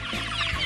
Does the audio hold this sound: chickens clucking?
yes